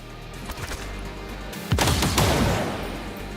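Gunfire in XCOM 2, a few muffled shots at first, then a sharp, loud burst of rapid fire with a reverberant tail fading away.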